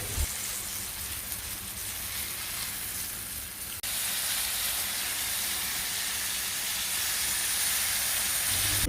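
A fish fillet fries in a pan with a loud, steady hissing sizzle that jumps a notch louder partway through and carries on without pause, close by and with no voices.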